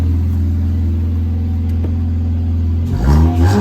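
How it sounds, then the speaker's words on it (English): A 2006 Ford Fiesta with a crudely modified exhaust idles with a loud, close, droning rumble, then is revved sharply near the end, the pitch climbing in quick bursts. "Give it a rev up."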